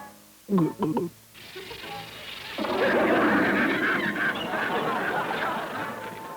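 A voice imitates wild geese honking: a few short vocal bursts come first, then a loud, raucous stream of goose-like honks and cackles runs steadily to the end.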